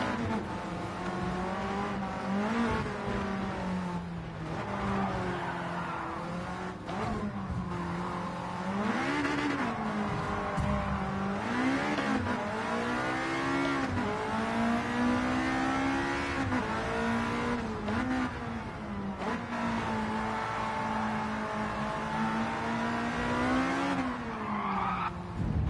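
A race car engine in Gran Turismo 7, heard from the cockpit, roars steadily, its pitch climbing and dropping through gear changes, with occasional tire squeals; no voices.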